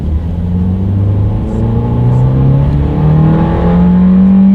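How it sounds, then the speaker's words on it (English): A 2019 Ford Fiesta accelerating hard, its engine note climbing steadily through the gears as a loud, close, continuous rising drone over road rumble, with no talking. "Now let's do a quick little acceleration, see how quickly we can get this go-kart-ish 2019 Fiesta here up to speed."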